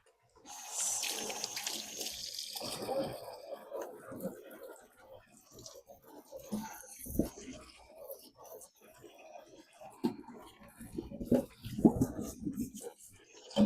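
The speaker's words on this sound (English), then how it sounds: "I'm just going to give them a good rinse" Tomatoes rinsed under a running tap, steady watery splashing and trickling at close range with brief handling noises, continuing through most of the stretch.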